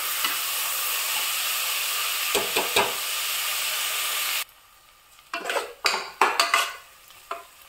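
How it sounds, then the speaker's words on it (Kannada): Onions frying for chicken biryani: a steady close sizzle for about four seconds, then quieter spells broken by clattering stirs of a utensil scraping against the pan. "ಈರುಳ್ಳಿ 5 ನಿಮಿಷ ಫ್ರೈ ಮಾಡುವ."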